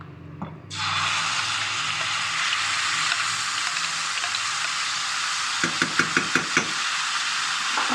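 Hot oil erupts into a loud, steady sizzle as spices, nigella seeds and curry leaves hit the pan for tempering, followed by a few sharp knocks near the end.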